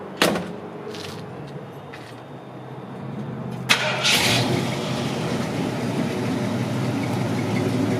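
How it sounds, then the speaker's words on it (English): A 1965 Mercury Montclair Marauder hardtop engine cranks briefly and catches, then settles into a steady, throaty idle close by, with a faint clunk just before it fires. "This car just always starts nice and easy. It just runs so good."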